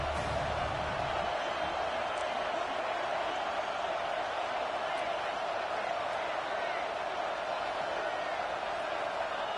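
Constant broad roar of a stadium crowd at an SEC college football game, steady throughout with a commentator's voice running over it.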